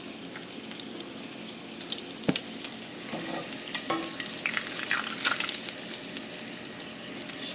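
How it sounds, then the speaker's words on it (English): Bacon fries in a pan with steady crackling sizzle and scattered pops, close by, as pieces are lifted out with a few clinks and scrapes. "Okay, my bacon's done. So let me go ahead and get this out of the pan."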